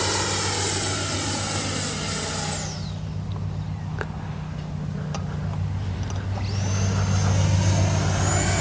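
A FlyFans L-39 Black Diamonds radio-controlled model jet whines steadily overhead during sport flying, its high turbine-like tone dropping as it passes and then rising again, fairly loud and continuous.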